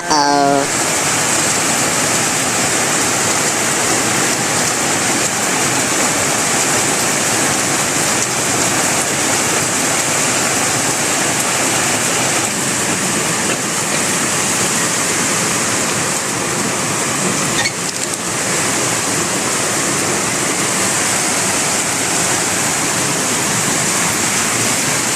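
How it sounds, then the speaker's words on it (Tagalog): Heavy typhoon rain in Leyte, Philippines pours down outside in a dense, steady roar that stays loud and unbroken throughout, with no pauses. "napakalakas sa ulan sa labas"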